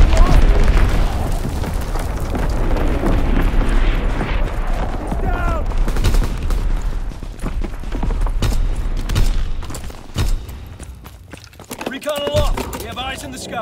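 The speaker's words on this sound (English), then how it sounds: "Firing division artillery." Artillery barrage in the Call of Duty: WWII video game, with a dense run of booms and blasts under radio-style voice callouts, continuing loudly before thinning out near the end.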